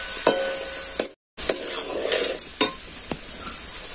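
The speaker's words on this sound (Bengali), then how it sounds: "আবার এটাকে আমি ভালো করে নেড়ে চেড়ে নিচ্ছি।" Ghugni with dried peas, potato and ground roasted spice is stirred in a pan: a few sharp spoon scrapes and knocks over a soft sizzle, close by, with a short silent break.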